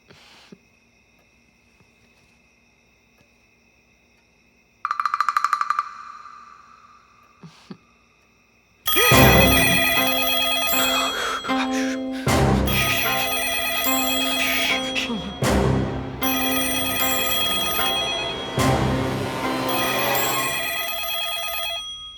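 A telephone rings in loud repeated trills with brief pauses between bursts after a quieter stretch with a short electronic chirp, close and alone with no talking.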